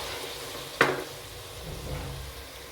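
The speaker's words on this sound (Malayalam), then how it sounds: "തക്കാളിയും പച്ചമുളകും കൂടി ഇട്ടിട്ട് ഒന്ന് നന്നായിട്ടൊന്ന് വഴറ്റി കൊടുക്കാം" Onion, tomatoes and green chillies sautéing in a pan for chicken curry, a soft steady sizzle broken by one sharp clatter of stirring, close, with no voices.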